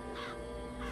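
Crows caw harshly in BioShock Infinite as the Murder of Crows vigor is used, a brief overlapping burst of close cawing over a steady low background hum.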